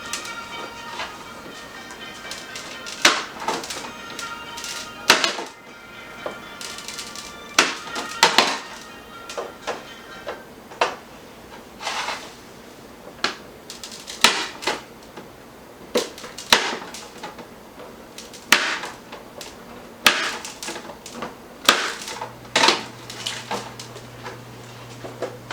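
A knife slices through a log of icebox cookie dough on a tray, giving repeated sharp cutting thuds and taps at an uneven pace, close and fairly loud.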